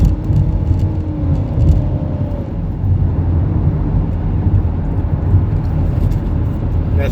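Steady road rumble and tyre hiss from a car driving in rain, with a passing vehicle's drone rising and fading early on, a continuous loud wash throughout.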